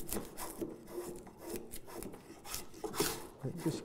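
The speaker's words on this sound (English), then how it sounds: "Spoke shave, just to fare this into that hollow." A spokeshave shaving a wooden frame saw part into a hollow gives repeated short rasping strokes of blade on wood, close and moderately loud, with faint voice in the background.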